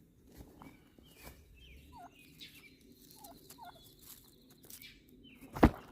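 Young pasture-raised turkeys gobble in short bursts at a distance in a paddock under mulberry trees, over a quiet outdoor background, with a sharp knock near the end.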